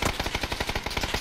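Rapid automatic gunfire in a video game, a dense burst of about a dozen evenly spaced shots over little more than a second, loud and close with no speech.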